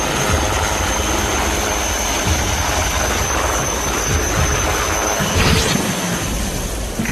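An HAL Dhruv Advanced Light Helicopter with its Shakti engine thunders steadily close by, a loud continuous rotor and turbine roar that swells slightly toward the end, with no talking.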